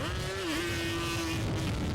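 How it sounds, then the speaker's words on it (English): Off-highway vehicles rev their engines on the sand dunes of a Utah riding area over the Easter holiday, one loud close engine holding a steady whining pitch after a brief rise and dip, with more motor noise behind. "The revving of engines is common over the Easter holiday."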